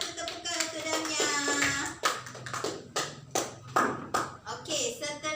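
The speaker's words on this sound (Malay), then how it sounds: "beri satu tepukan untuk Damia" A primary classroom of pupils claps together for a classmate, producing a burst of sharp, fairly close hand claps in an uneven rhythm that comes and goes. Children's voices chatter beneath and between the claps.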